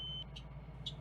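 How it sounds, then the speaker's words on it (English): Rear emergency door buzzer on a school bus: short, piercing electronic beeps repeating in quick bursts over a steady low engine rumble. "Open the rear emergency door. The buzzer should be sounding."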